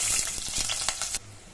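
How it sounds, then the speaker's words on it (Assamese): Onions fry in hot oil with cumin, cloves, cardamom and cinnamon, giving a close, steady sizzle with stirring scrapes that cuts off abruptly near the end. "এয়া মোৰ পিঁয়াজখিনি ভাজি হৈ গ'ল।"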